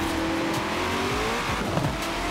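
Cars in Forza Horizon 4, among them a Hennessey Venom GT, a Senna and a Veneno, hold a steady loud engine drone. A rising rev tone and brief tire noise sit on top, with no voices.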